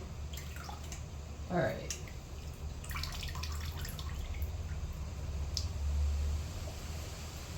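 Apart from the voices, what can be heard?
potatoes being put into water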